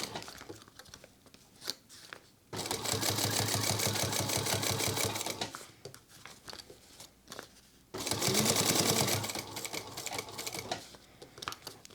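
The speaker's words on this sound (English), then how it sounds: "Remember that we need to pull the fabric as we work on it and do this top stitch." A walking foot sewing machine top stitches fabric for a sling crossbody bag, running in two loud, fast-stitching bursts of about three and two seconds, with quieter fabric handling between and around them.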